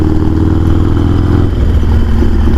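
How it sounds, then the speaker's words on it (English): A Harley-Davidson Sportster engine rumbles steadily and loud while the motorcycle is ridden, a close, low throbbing drone with faint mechanical clatter and no speech. "Feels nice getting back out on a motorcycle here."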